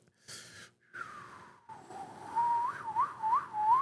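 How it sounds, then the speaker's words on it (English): A person whistles a short melody of rising, slurred notes, tentative at first and then steadier, close to the microphone with faint breaths between phrases. "I almost forgot how to whistle"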